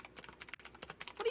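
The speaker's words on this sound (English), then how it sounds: "Keta, your keyboard is so loud" Rapid clicking from a loud computer keyboard, close and crisp, keystrokes tumbling in quick irregular bursts with a brief pause midway.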